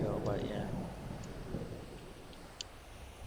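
Thunderstorm weather in a Minecraft weather mod, with a low rumble of thunder and steady rain hiss, plus a brief voice at the start and faint sharp clicks.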